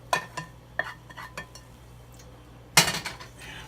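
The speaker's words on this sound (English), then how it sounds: "I'm going to give that a good stir into the butter." Clams are stirred into melted butter in a pot for New England clam chowder, with a spoon clinking and scraping against the pot in several close, sharp knocks and a louder clattering burst near the end.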